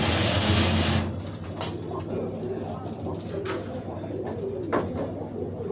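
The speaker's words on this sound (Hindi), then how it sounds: "उसमें कबूतर का दौड़ना अपने आप में कमाल है, कबूतरों का भी और उड़ाने वाले खिलाड़ी का भी।" Cooing from a flock of Hyderabadi racing pigeons outdoors in cold weather, a soft, steady murmur of low calls running throughout after a louder opening second, with faint distant rumble and voices in the background.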